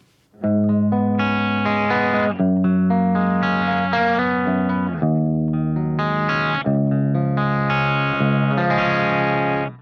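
An electric guitar with high-output pickups plays sustained clean-tone chords through a Fractal amp modeler with slight breakup, ringing loud and full, with a few chord changes.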